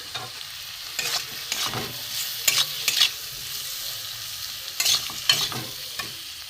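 Fried Bombay duck fish stir-fried with spices and boiled, chopped potato for a spicy chorchori: steady close sizzling with repeated scraping stirs of the spatula in the pan, no voices.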